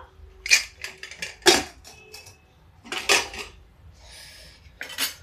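Metal cookware clatters as a pan is set down on the stove, a few sharp clanks spaced apart with quieter scrapes between.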